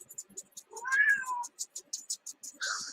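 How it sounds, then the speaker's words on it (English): A cat meows nearby, one drawn-out meow followed by a shorter one, alongside a quick run of light ticking clicks. "Yeah, that's my co-host, my cat."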